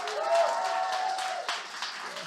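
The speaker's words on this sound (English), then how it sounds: "Can people clap while I do this?" An audience claps for young poets at a Herstory event in Exeter, a steady, fairly close ripple of applause sustained throughout with a faint tonal hum running beneath it.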